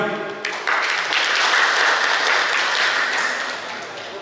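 Sustained applause from a crowd in a meeting hall during a regional assembly plenary session, rising quickly after a brief pause and holding steady for several seconds before tapering slightly.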